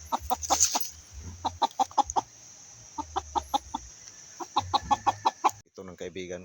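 Close, repeated clucking from a young chicken held after being caught, coming in quick runs of sharp pulses with brief gaps between them. It is followed by a short rustle at the end.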